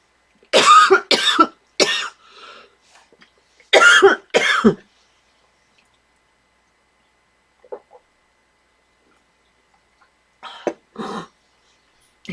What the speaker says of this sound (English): I started to kind of cough